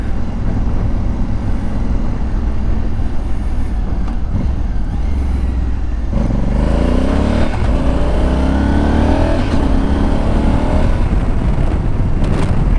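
A Honda Africa Twin motorcycle engine rumbles loud and close, then revs up in several rising sweeps as it accelerates, with a steady throaty roar underneath.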